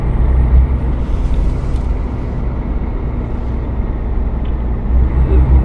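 Truck engine in the video game Euro Truck Simulator 2, a loud, steady low rumble throughout, with brief hissing air-brake bursts near the start and end.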